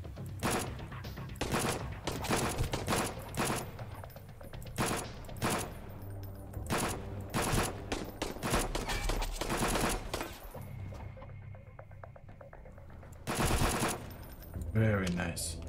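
A submachine gun fitted with a big drum magazine fires long rapid bursts in the survival game Sunkenland, loud and close, with brief pauses between volleys and a few short final shots.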